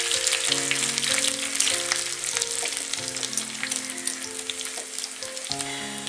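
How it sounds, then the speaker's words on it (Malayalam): Thin-sliced small onions and a split dried red chilli fry in oil for a prawn peera dish, giving a steady, close, dense sizzle throughout with tonal background music layered over it. "ഈ ഉള്ളി ഒന്ന് നന്നായിട്ടൊന്ന് മൂത്ത് വരണം."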